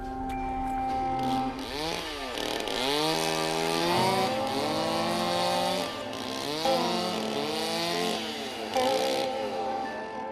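Chainsaws whine and rev repeatedly, engines rising and dropping in pitch as blades carve large ice blocks at the Harbin ice festival in China, steady and loud throughout.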